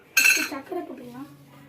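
A spoon clinks against a cup and scrapes as sugar is stirred into freshly made coffee with hot milk, a bright, close metallic rattle at the start that fades into softer scraping, followed by a voice talking.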